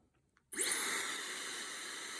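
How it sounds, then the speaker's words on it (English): A Dyson Supersonic hair dryer switches on abruptly after a moment of silence and keeps blowing with a steady, loud whooshing whir. "hopefully you guys can still hear me over, you know, the hair dryer being on"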